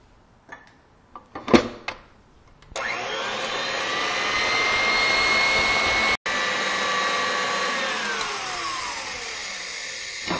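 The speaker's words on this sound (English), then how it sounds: "I'm going to stop the mixer now" An electric mixer whips cookie icing, starting after a few knocks and clatters and then running as a loud, steady whirring hum that carries on to the end with one brief cut.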